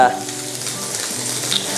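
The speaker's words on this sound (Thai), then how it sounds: "ผัดเจ้า กระหล่ำดาวนะครับ" Steady, loud sizzling of Brussels sprouts stir-frying in a hot pan, with a continuous crackle and no voices.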